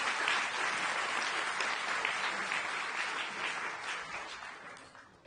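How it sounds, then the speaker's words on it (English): Audience at a Sydney science forum on ageing well clapping for a speaker, a broad steady round of applause from many hands that gradually thins and fades toward the end. "please give her a big round of applause, Dr. Samantha Solon-Biet"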